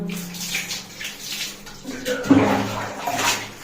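Water splashes and sloshes in a baby's bath tub in uneven bursts, with a louder splash midway and a voice faintly present in the background.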